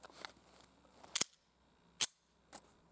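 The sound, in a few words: SOCOM rifle gunshot at 100 yards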